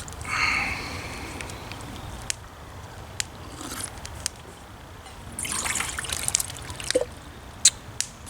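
Water trickles and splashes into a pan during outdoor cooking in the woods, with soft intermittent pouring, a few sharp drips and clinks against the metal, no talking.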